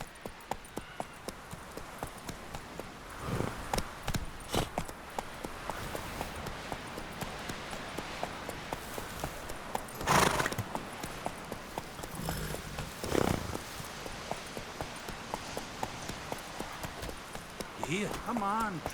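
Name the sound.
horse Roach trotting and neighing in The Witcher 3 video game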